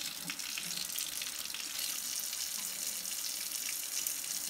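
Water rinses steadily through a part from a Coleman Q99 generator after a citric acid soak, a continuous faint splashing hiss like running tap water with no talking.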